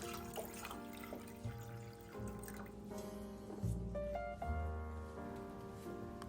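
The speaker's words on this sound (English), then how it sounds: "We're going to start with 2 cups of water." Water pours from a tap into a pot for yellow rice, a faint, steady trickling stream with drips and shifting tones as the pot fills.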